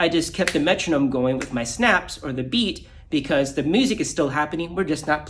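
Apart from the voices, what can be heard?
No everyday noise stands out behind the speech.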